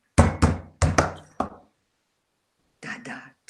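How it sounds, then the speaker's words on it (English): Tap shoe heels striking a hard floor in short pairs of sharp, close knocks, then a pause and two more taps, with no voices. "The way you put your heel down."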